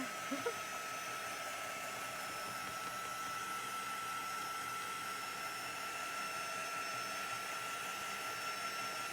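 A heat drying tool blows steadily on chalk paste in a craft project, a constant close whirring rush of air that runs unbroken and alone from start to finish.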